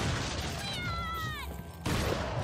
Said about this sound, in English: Are you not hearing that? Hearing what? The cat?